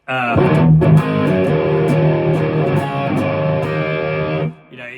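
A heavily distorted electric guitar with Hot Rails pickups through a Marshall Guvnor distortion pedal rings out in thick sustained chords, loud and saturated, then cuts off abruptly near the end.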